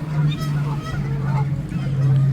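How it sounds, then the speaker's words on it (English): Geese honk repeatedly beside Lake Windermere at Bowness, where swans also gather, a steady run of nasal calls close by over low background hum. "This is a good place to come if you want to feed the swans and the geese."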